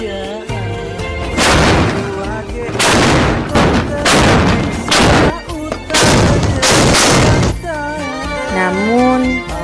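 Carbide cannons boom during a festival in Pontianak, a rapid series of loud, heavy blasts with roaring echoes, several overlapping volleys across the span.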